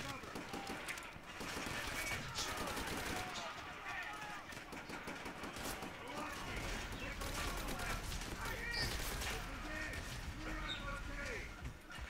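Rapid bursts of Type 100 submachine gun fire in Call of Duty: World at War, steady and loud through the whole stretch amid other battle noise and mechanical sounds, with players talking over it.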